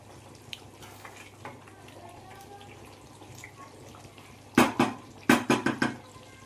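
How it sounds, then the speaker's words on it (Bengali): Mutton kosha stirred in a cooking pot on a medium flame: a quiet, low background gives way to a few sharp clanks and scrapes of a spoon against the pot near the end, in quick succession. "এবার আমি মটনটা একবার নাড়াচাড়া করে নেব"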